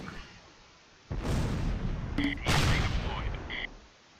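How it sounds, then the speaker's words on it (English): Tank cannon fire in the Close Combat: Last Stand Arnhem wargame involving a Sherman tank, heard as a couple of heavy booming blasts in quick succession with a rumbling tail. "note how we shot it twice and did absolutely nothing, and it shot us once and blew it up"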